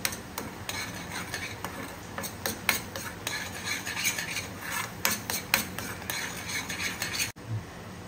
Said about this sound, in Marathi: आता आपले छान मस्त मसाले परतून घ्यायचे बघा